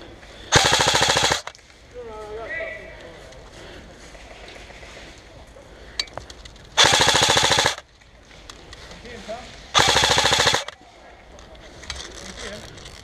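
Airsoft guns fire during a skirmish game in Nottingham, with three loud bursts of rapid automatic fire about three seconds apart. Players shout nearby between the bursts.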